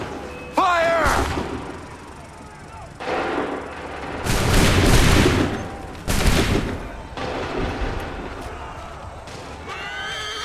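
Musket volleys boom in Assassin's Creed III, several loud, rolling bursts of massed fire spread across the scene, mixed with horses whinnying and shouted battlefield commands.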